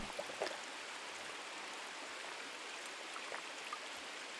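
River water flowing steadily in a survival video game, a soft broadband wash with a few faint splashes, moderately quiet and continuous with no talk.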